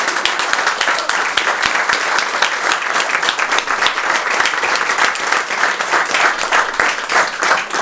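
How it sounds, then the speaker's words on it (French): A theatre audience applauds the play's author, sustained and loud with crisp individual claps standing out from the dense mass, continuing steadily without talk. "je vais vous demander aussi une nouvelle vague d'applaudissements pour l'auteur Eric qui est au fond de la salle"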